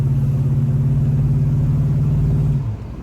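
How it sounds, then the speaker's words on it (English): A 1971 Oldsmobile Cutlass with a Rocket 350 V8 and Flowmaster dual exhaust rumbles loudly and steadily at close range, a deep throbbing drone holding on before easing off near the end. "Even with a dual exhaust system for a Flowmaster, it sounds good as you open it up"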